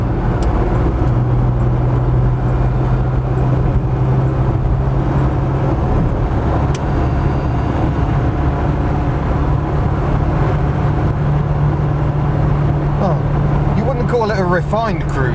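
A Vauxhall heritage car cruises along a road at roughly 70 mph, giving a steady, loud engine and road drone with wind noise throughout. Someone talks over it now and then.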